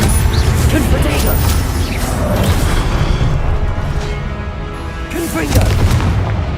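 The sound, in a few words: Confringo fiery blast spell explosion, Hogwarts Legacy video game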